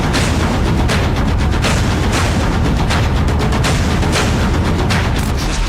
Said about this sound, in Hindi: इस ट्रक से एक के बाद एक चंद मिनटों में कई धमाके हो रहे हैं